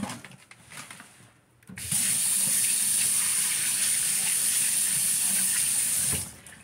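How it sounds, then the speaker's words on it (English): A kitchen tap runs steadily for about four seconds while hands are rinsed during meatloaf preparation, a close, even gush of water that starts abruptly and then cuts off, with quieter kitchen noise before it. "Just want to rinse my hands a little bit."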